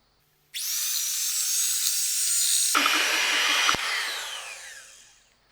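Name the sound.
creaming butter and sugar for cookies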